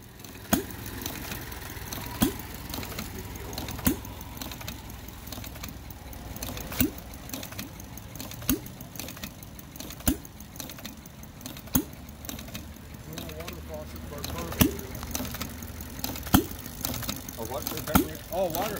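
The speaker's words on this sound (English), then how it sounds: "This is a 10-cycle engine." A hand-built 10-cycle stationary engine runs at a show with steady rumbling and periodic sharp firing beats at regular intervals, while people talk nearby over it.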